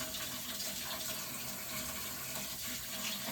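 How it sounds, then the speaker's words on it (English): Lukewarm water runs from a tap into a measuring cup for bread dough, a steady close gushing stream with no pauses and no voices. "I need 1/2 cup of lukewarm water."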